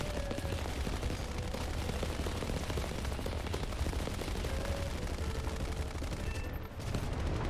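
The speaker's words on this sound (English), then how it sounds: "there's a lot of fire coming from these ground targets" Dense, continuous anti-aircraft fire from ground targets in the War Thunder video game, a steady crackling barrage of rapid gunshots that runs loud and unbroken throughout.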